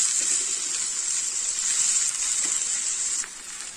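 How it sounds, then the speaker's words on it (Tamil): Keerai greens frying in a pan for ragi roti, a steady bright sizzle with faint scraping underneath, constant until it softens near the end. "கீரை வந்து ஓரளவு நல்லா வெந்து வருது"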